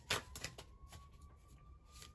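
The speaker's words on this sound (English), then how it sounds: "Let's go ahead and shuffle up the tarot cards really quick." Tarot cards are shuffled by hand in a few quick, soft riffling bursts, close and fairly quiet, followed by lighter papery flicks.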